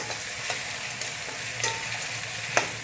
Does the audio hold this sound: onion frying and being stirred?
yes